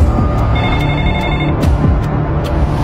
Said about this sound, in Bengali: তোমার ফোনটা ধরো, ফোনটা কানতাছে